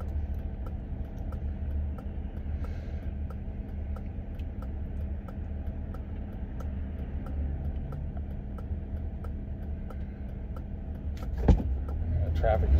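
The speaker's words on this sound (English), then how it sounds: "Traffic is starting to build up here." Steady road traffic rumbles past at a moderate distance as vehicles build up on a local street, a continuous low drone with a brief louder clunk near the end.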